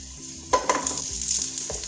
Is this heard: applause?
no